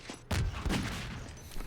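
A single sharp gunshot in Half-Life 2 Deathmatch, loud and close, followed by a short burst of further shots and game noise.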